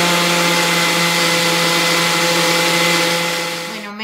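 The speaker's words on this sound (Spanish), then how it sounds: "volvemos a batir otros 2 minutos" A blender whirs loudly and steadily at a constant pitch, close up, mixing coquito, then slows and winds down at the very end.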